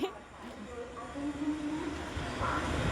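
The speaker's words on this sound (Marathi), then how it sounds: "मी आत्ता एक कॉल केला की लगेच ट्रेन आली" Low rumble of a train rolling in, building slightly with a rising metallic tone, no talking heard.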